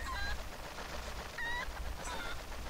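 Honking, squawking cries from a golden cuckoo chicken in the video game Zelda: Twilight Princess, three short calls over a steady low game-background rumble, no talk.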